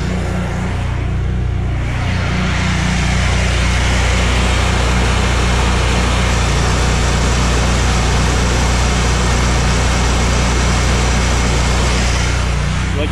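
A pressure washer motor runs at close range during house washing, giving a loud, steady droning hum with no break for the whole span and nobody talking over it.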